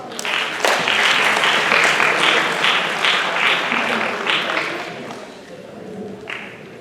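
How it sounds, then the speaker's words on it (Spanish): A university lecture audience applauds to welcome a speaker, a dense burst of many hands clapping that starts loud and gradually thins and fades, with a voice briefly heard underneath. "quiero pedir a todos ustedes que lo recibamos con un fuerte aplauso."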